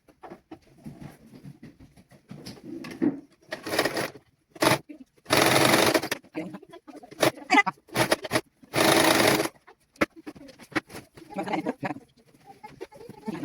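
A sewing machine stitches the side seam of a child's garment in short bursts of whirring, each lasting about a second, separated by quiet pauses and soft handling noises.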